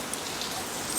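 Rain falls in a steady, dense hiss without pause, close and even throughout.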